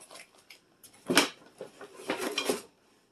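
A metal pizza pan handled on a table, giving a few clanking, rattling metallic knocks and scrapes, one sharp clatter in the middle and a longer jangly stretch near the end, fairly close and with no talk.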